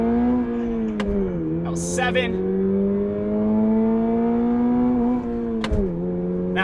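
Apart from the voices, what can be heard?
Toyota GR86 sports car accelerating, revving to redline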